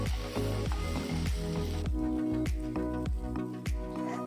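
Fried idli pieces sautéed with sauce in a pan give a steady, close sizzle with wet squishing and irregular stirring knocks, running throughout with no talk.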